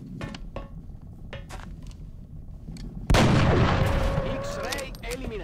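Gunfire in XCOM Enemy Within during an alien base mission: a few sharp clicks, then a sudden loud, heavy shot that booms and rings out, decaying into lingering rumble and metallic tail.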